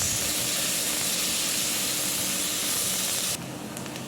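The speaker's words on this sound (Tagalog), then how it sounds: "tayo ay magigisa" Garlic and onion sauté in hot oil in a pan, a loud, steady hissing sizzle that drops abruptly in volume near the end, with no talk.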